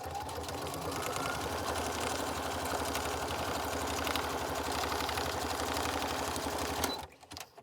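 A sewing machine stitches in a steady, fast mechanical whir and rapid needle rattle for several seconds, close and continuous, then stops abruptly.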